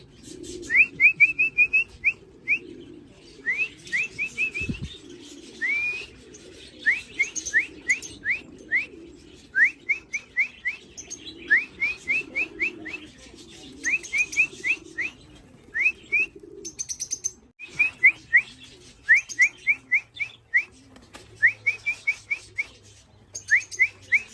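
Racing pigeons arriving home after a 260 km race, with many rapid repeated chirps and whistling calls nearby in steady bursts, plus soft cooing and occasional wing or perch noises, with no talking.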